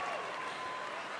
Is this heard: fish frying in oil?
no